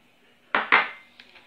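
Whisk clinking against the side of a pot while gelatin is stirred for panna cotta, two sharp metallic knocks followed by fainter taps, close and with no talk.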